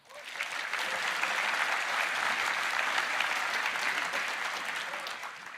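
Steady, full applause from a large keynote audience at the Roblox developer conference, sustained and dense for several seconds before tapering slightly at the end.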